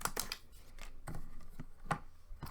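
Paper being cut on a We R Memory Keepers slimline punchboard: a few quiet, sharp slicing and snipping strokes with short pauses between them, close and faint, no talking.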